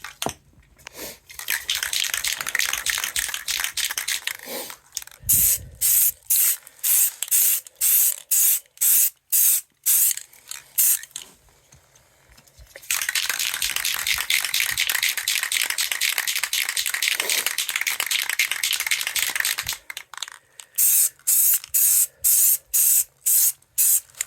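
Spray gun painting a firearm in long, fast strokes, with bursts of loud close hiss and short breaks between passes, some very rapid and choppy, others sustained for several seconds.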